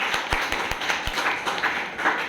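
Short burst of audience applause at an AWPL team business meeting in Kanpur, a crisp clatter of claps with a few sharp, close hand slaps standing out.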